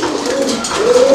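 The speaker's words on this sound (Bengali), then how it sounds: "এই যে দেখেন কবুতর, আমি দেখাচ্ছি এই দুইটা তিনটা, আর এখানে এটা হচ্ছে কিং কবুতর।" Fancy pigeons, among them a king pigeon, at a wholesale pigeon seller's coo softly at close range in a short rising call under steady ambient noise.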